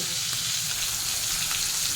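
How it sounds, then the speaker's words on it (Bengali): Steady, crackling sizzle of pomfret fish frying in hot oil in a pan, continuous and close. "পমফ্রেট মাছ কিন্তু খুব বেশি ভাজা যাবে না।"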